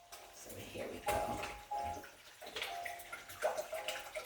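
Water pours from a tap into a cooking pot in a home kitchen, a splashing, gurgling stream that rises and falls in bursts with clinks of cookware in between.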